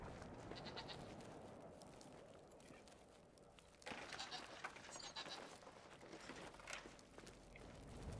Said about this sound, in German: Große Schafe?